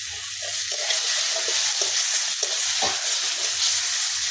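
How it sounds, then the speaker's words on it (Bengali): Onion, garlic and ginger frying in a pan, a steady close broadband sizzle with occasional stirring scrapes and pops, no voices. "পেঁয়াজ রসুন আদা আমার ভাজা ভাজা হয়ে গেছে"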